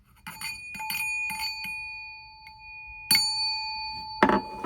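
A bowl packaged with a K-pop album is struck with a wooden mallet, giving a quick run of light taps and then two firmer strikes, each leaving a clear, sustained metallic ring that hangs close and fairly quiet.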